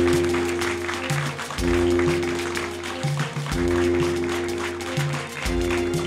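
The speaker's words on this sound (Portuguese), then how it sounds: "Uma salva de palmas para todos que estão aqui." A live audience at a talk show applauds the people present, the dense clapping running continuously under a loud, steady musical bed with repeating low tones throughout.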